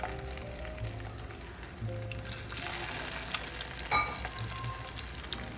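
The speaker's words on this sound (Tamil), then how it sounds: "எண்ணெய் சூடாயாச்சு ஸோ ஒன்று ஒன்றா பேட்டிஸை ட்ராப் பண்ணிடும்" Fish patties drop one by one into hot oil and fry with a steady, close sizzle and crackle, a few sharper spatters and a brief clink partway through, no talking over it.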